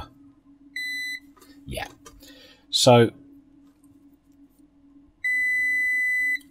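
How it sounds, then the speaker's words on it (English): Continuity beeper on a multimeter set to ohms during a Heathkit V-7AU repair, sounding two steady electronic beeps, a short one early and a longer one at the end, with a brief spoken word and handling between them. "let's select again so that, not capacitance, ohms with a beeper"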